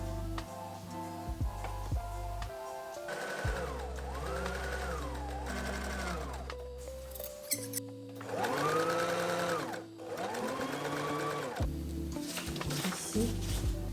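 A sewing machine stitches fabric in several sustained runs, its motor whirring up and down in pitch between short pauses, loud and close.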